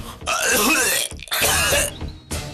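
A person suffering from a bad fever and cough lets out two loud, harsh coughing fits close up, each rough burst lasting about a second, followed by a shorter third cough.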